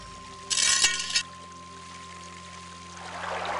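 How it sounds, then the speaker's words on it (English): Water from a magical fountain in the game Realms of the Haunting pours in a brief bright splash, with a steady low hum and hiss around it and a softer watery wash building near the end. "Fountain. The water's magical."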